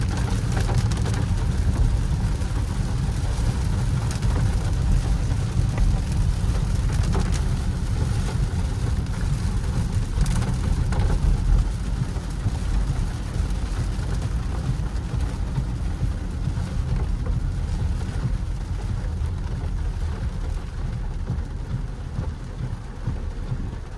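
Steady rain drums over a Jaguar F-Pace on the move, a dense continuous wash with a low road rumble underneath, holding at an even, fairly loud level throughout with no talking.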